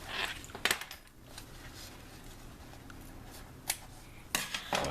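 Scissors snip reinforcement material away from the zipper of a Garrett finds pouch, with a few sharp metallic snips and clinks spaced over a quiet close-up background.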